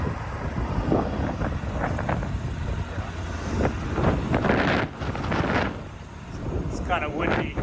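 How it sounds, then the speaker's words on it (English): Strong wind buffets the microphone with a steady low roar, while faint voices and passing noises come and go underneath. "In fact, it's very windy."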